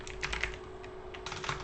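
Fingers tap quickly on a computer keyboard in irregular bursts of clicky keystrokes, with a short pause in the middle before another flurry. The sound is close but fairly quiet over a faint steady hum.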